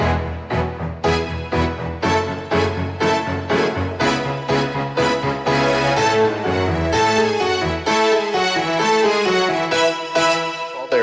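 A bright synthesized pop strings patch on a Nord Stage 4 plays rhythmic stabbed chords, loud and continuous, with no voices.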